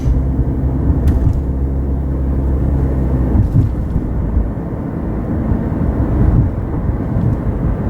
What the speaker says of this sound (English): Gas motor's on.